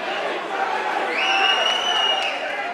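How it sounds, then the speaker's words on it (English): Boxing crowd cheering at the Reggio Calabria Club in Brunswick, Victoria, during a hard-fought bout: a dense, steady roar of many voices with a rising whistle-like tone through the middle, sustained and fairly loud throughout. "the crowd are on their feet at the Reggio Calabria Club"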